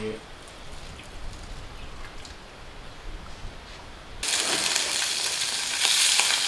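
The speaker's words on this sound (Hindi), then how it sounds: "लाला को बहुत बहुत शुक्रिया मछली सारा फ्राई कर रहा है" Fish frying in a pan at a cave campsite by a mountain river, a steady crackling sizzle that swells sharply louder partway through, close and continuous.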